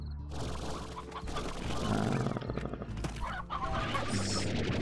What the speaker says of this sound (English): Ooh, come with me, chicken.